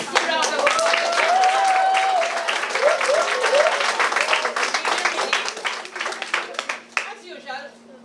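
Schoolchildren and audience at a primary school prize event clap loudly and briskly, with cheering voices mixed in early on, the clapping thinning into scattered claps near the end.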